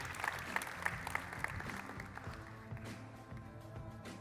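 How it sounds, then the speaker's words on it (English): Audience at a magic show applauding a volunteer, a steady wash of many hands clapping that starts with a few sharper claps and gradually thins and fades. "Another round of applause for Sven."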